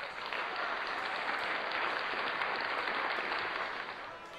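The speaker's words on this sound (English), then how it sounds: "Let's get a round of applause for this man." Continuous crowd applause from a wrestling arena in the WWE 2K20 video game, a broad, even roar of clapping that holds steady and eases slightly at the close.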